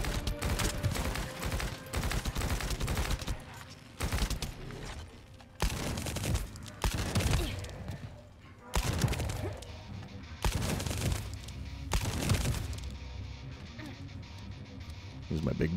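Gunfire in the video game The First Descendant: repeated bursts of rapid, loud shots in several volleys with brief pauses between, under a player's talking.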